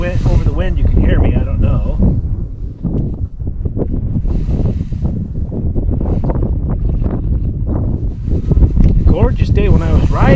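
Strong wind buffets the microphone outdoors on a glacier trip, a loud, rough low rumble that gusts and swells throughout while someone talks over it.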